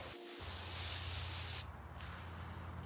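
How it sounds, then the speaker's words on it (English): A hand sprayer mists neem oil over basil plants in a garden, a soft continuous hiss lasting a couple of seconds, close and fairly quiet. "Let's just give all these basils a little bit of neem oil."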